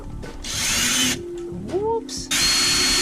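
A handheld power drill bores holes while a custom inverted pedal set for a G920 wheel is built. Close bursts of whirring motor start and stop, broken by brief pauses and a rising spin-up whine.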